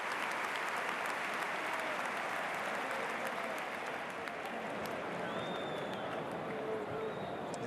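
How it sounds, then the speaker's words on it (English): Continuous applause from a large, distant stadium crowd at a Real Madrid versus Athletic Bilbao football match in 1999/2000, a dense wash of clapping and cheering that holds steady throughout. "Big round of applause for Edu Alonso from the home side."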